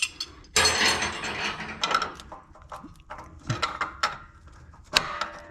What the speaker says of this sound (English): Let me loosen up this O2 sensor.